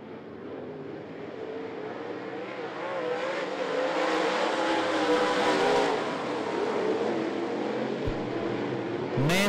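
Steel Head late model race cars roar around I-75 Raceway, engines swelling louder as the field sweeps past and then easing off, a dense mechanical drone with crowd and track ambience and no clear talk.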